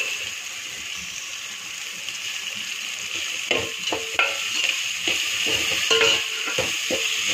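French beans and carrots frying with paste in a pan for fried rice, a constant bright sizzle joined midway by busy rhythmic scraping and clattering of a spatula stirring the vegetables.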